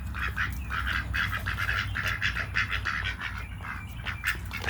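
Ducks quack repeatedly in a steady run of nasal calls, moderately near, with a low background rumble and no talking.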